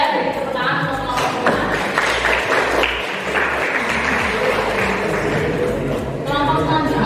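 Classroom audience applauding group 2 at the end of their agriculture presentation, a steady wash of clapping that fills the whole stretch without letting up.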